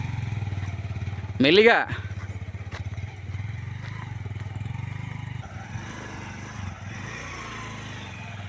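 A motorcycle labours up a rough, slippery hill road, its engine putting steadily at low revs with one brief loud rev and some clattering, while people talk nearby.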